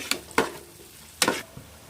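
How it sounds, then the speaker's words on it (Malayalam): Masala with onion, tomato and green chilli sautéing in a pan, a soft continuous sizzle broken by a few sharp stirring scrapes, close up. "ഈ നന്നായിട്ടൊന്ന് വഴണ്ടി വരട്ടെ."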